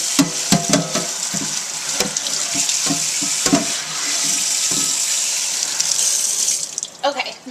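Water runs steadily from a tap over a cast iron skillet being rinsed in a sink, with a continuous hiss, splashing and a few clanks of the pan; the flow cuts off near the end.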